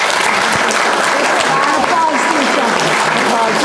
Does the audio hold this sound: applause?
yes